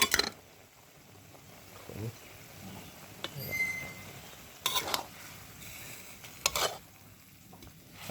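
Spicy frog and pickled bamboo shoot stir-fry sizzling in a pan, stirred with occasional utensil clinks and louder scraping bursts, fairly quiet and close, with a voice talking over it.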